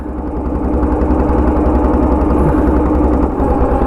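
A bhotbhoti, a motorized cart of the Sundarbans, runs its engine close by, a loud, steady low chugging drone with a fast rhythmic pulse and no pause.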